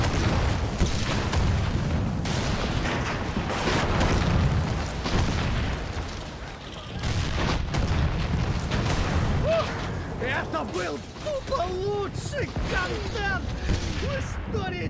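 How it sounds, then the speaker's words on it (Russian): Tank cannon fire and heavy explosions in a Far Cry 6 battle, repeated deep booms and blasts rolling through the scene, with voices talking over the din near the end. "Мы стоим, тут танк хреначит"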